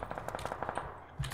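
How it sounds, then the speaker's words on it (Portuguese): Rapid automatic gunfire crackles in a shooter video game, a quick run of evenly spaced shots at moderate distance, ending in a heavier thump. "já começou a dar muito tiro pra cá, Faro."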